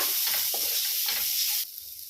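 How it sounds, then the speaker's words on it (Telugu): Tomatoes with ginger garlic paste fried and stirred in a pan, a steady sizzle with a few scraping stirs, close and fairly loud, and the sizzle drops off near the end. "హాఫ్ స్పూన్ అల్లం వెల్లుల్లి పేస్ట్, కొంచెం అంతా కొత్తిమీర అండి. మంచిగా కలుపుకోవాలి."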